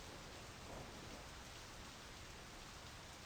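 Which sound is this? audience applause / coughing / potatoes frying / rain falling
rain falling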